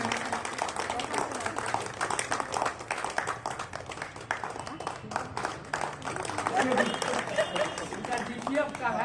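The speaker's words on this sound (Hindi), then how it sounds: "ताली बजाते रहें, उत्साहवर्धन करते रहें।" An audience claps at a teachers' farewell and honour ceremony in Amrapara, Pakur, with shawls being presented, the steady scattered applause running throughout while a voice speaks over it on a loudspeaker.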